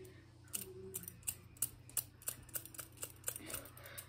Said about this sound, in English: also I got a butterfly knife